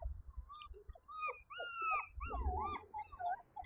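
Five-week-old puppies outdoors on their first trip outside, a string of high thin whimpers and yips rising and falling, fairly close, over a low rumble of background noise.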